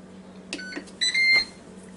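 A Ninja Foodi Deluxe multicooker powering on, giving a short series of clear electronic beeps: a brief tone, then a longer, louder one, in a quiet room.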